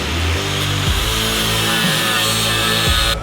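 A power tool cuts and grinds protruding studs on a Toyota Tacoma frame, a loud continuous whine with steady harmonic drone and slight pitch shifts, close and uninterrupted.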